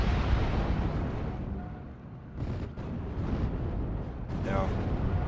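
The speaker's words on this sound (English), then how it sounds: "Rocket salvo is now pushing back the Germans" A rocket artillery salvo rumbles in the WWII strategy game Steel Division 44, with dense, continuous booming explosions that dip briefly and then swell again, loud and rolling.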